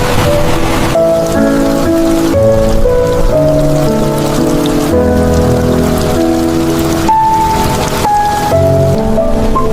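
Steady rain falls over wild land, a dense, even hiss of drops lasting throughout, under a background of soft tonal music.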